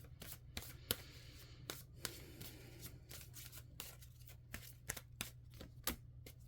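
A deck of tarot cards is shuffled and pulled by hand: quick, crisp riffles and snaps repeat steadily, close and quiet over a low background hum, with no voices.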